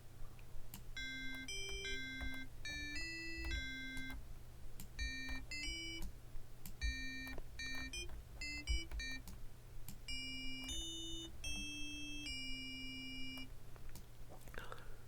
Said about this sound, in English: Kind of get that really kind of chimey bell nature of the sound.